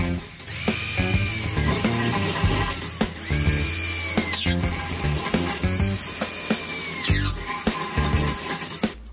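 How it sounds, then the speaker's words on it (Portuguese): Power drill boring four fixing holes in an electrical meter post for a 220V standard installation on a rural property, loud whining bursts that start and stop several times amid clanks and knocks from the work nearby. "Ele vai fazer os furos agora"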